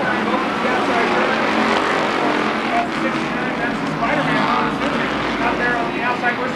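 Street stock cars racing side by side down the back straight of the Chaparral track, a dense continuous engine roar with a commentator talking loudly over it throughout.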